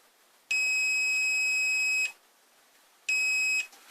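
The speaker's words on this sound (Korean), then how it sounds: "방금 여기서 삐 소리 났죠" Two loud electronic beeps from a relay tester checking a 12V massage chair relay, a long steady tone of about a second and a half followed by a shorter one after a pause, with faint background hiss.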